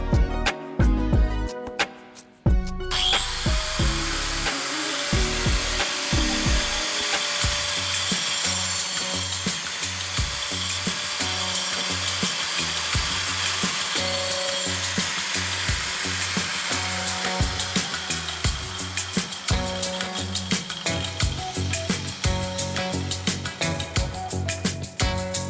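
An angle grinder mounted on a homemade sliding wood stand cuts through a clamped piece of wood. The harsh, loud grinding whine holds steady with rough, grating bursts as the disc bites into the wood.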